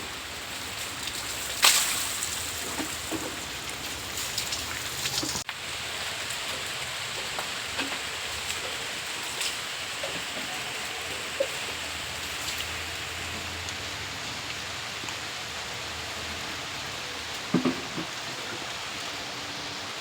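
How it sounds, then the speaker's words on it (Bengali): Steady rain falls throughout, a dense even hiss of drops on surfaces with a few louder close patters, and no voices. "এই বৃষ্টি পড়ে।"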